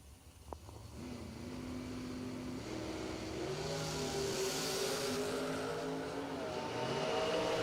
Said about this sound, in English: Steve the Farmer Folk, 617, right side in the Chevy 2 wagon, 2-door.